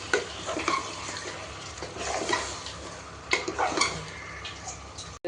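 Marinated mutton simmers and sizzles in a pot for biryani, a steady bubbling hiss broken by occasional scraping and stirring clatter close up.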